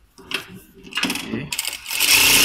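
Thread trimmer on a Siruba DL7200 industrial sewing machine with direct drive motor, giving short mechanical clicks and snips with a brief whirring burst, close and fairly loud, with no talk.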